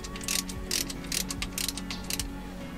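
Ratchet clicking in short bursts while tightening bolts on the steering wheel of a 1955 Ford truck, a close, repeated metallic ratcheting with brief pauses between strokes.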